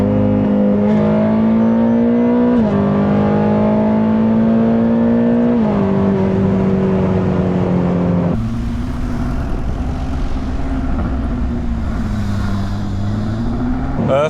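A stock Ferrari California with a flat-plane-crank engine revs repeatedly, its loud, close exhaust note climbing in rising sweeps before dropping back, then surging again.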